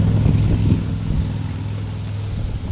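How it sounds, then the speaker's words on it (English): Gusty wind rushes across an outdoor microphone beside a 1964 Jetstar 1 with a stuck engine, a steady low roar that swells and eases for a few seconds with no one speaking. "It is a little bit windy here today."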